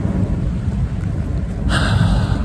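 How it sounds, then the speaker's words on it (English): Heavy rain pours steadily through a thunderstorm while a low thunder rumble rolls underneath and swells near the end, loud and close, with no voices. "hope you guys enjoyed the rain. Look at this."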